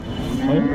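A dairy cow at a village cattle market gives a brief, low moo that swells toward the end, close and fairly loud.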